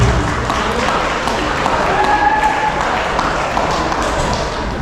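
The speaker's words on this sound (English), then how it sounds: "if we can have a round of applause for Skyline Pines Catering and Serving and our lovely beverage servers" A retirement celebration audience applauds in a steady, dense wash of clapping, with a few chatty voices and a brief ringing tone mixed in.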